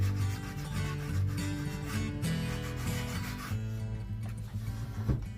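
Painted furniture being distressed by hand, a garage-sale farmhouse flip, with a steady scraping rub that repeats over tonal background music.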